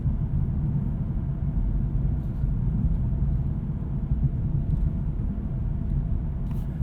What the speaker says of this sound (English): We're traveling at 50 miles per hour and the cabin is very quiet and hushed.